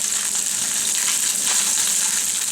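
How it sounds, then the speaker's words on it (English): Octopus searing in a pan of hot oil with seasonings, a steady bright sizzle running continuously and evenly at close range with no voices. "you want to kind of sear them for just a couple minutes"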